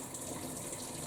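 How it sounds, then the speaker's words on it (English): Cold tap water runs steadily into a stoppered kitchen sink, a soft, even rush of flow that holds constant throughout with no pauses or voices. "I'm going to fill that up with cold water"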